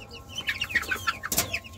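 Chickens cluck in quick bursts of chirpy calls close by, around fancy chicks such as Silkie and pheasant young in a small backyard flock, with one louder squawk near the end.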